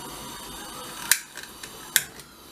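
Two sharp clicks of a kitchen gas burner igniter about a second apart, close and crisp, with a faint hiss of gas between them as the stove is lit.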